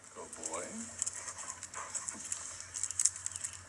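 A dog breathes hard in quick, rhythmic pants while a voice talks over it; the panting sits up close and carries on throughout, with faint whimpery tones.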